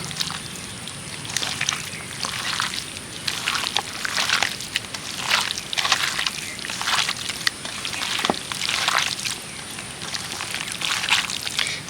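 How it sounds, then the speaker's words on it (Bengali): Chicken pakora batter mixed by hand with an egg, a steady wet squelching and sloshing that keeps up a busy rhythm throughout, close and continuous with no talking. "আবারও হাত দিয়ে ভালো করে মিশিয়ে নেব"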